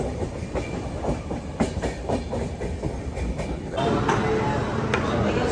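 A train rumbles along toward Mumbai CST with rhythmic clickety-clack of wheels over rail joints, steady and close, growing slightly louder and brighter near the end.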